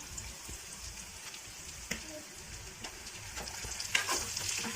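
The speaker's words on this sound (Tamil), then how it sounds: "இதையும் பச்சை வாசம் போகிற அளவுக்கு நல்லா வதக்கி விட்டுக்கலாம்." Ginger garlic paste sautés with butter beans and potatoes in a pan, a steady soft sizzle broken by spatula stirs and scrapes that grow a little louder toward the end.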